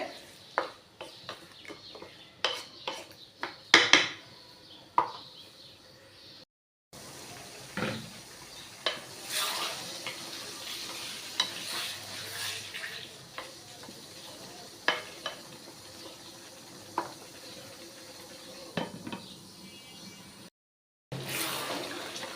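Potatoes being sautéed together in a pan for a dried-fish curry: repeated scraping and clattering stir strokes over a soft, continuous sizzle, with a couple of brief pauses.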